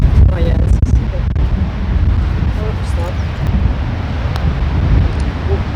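Steady wind buffets the microphone on an open golf course, a loud, continuous low rumble with gusts rising and falling throughout, and faint voices in the background.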